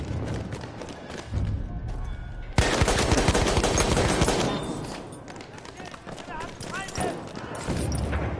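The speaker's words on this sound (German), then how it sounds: "Ein Maschinengewehr!" Rapid automatic gunfire rattles through a video game battle, loud bursts with scattered shots and running footsteps amid the chaos, while voices shout over the action.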